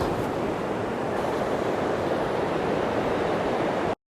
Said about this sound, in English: we got epic waterfalls here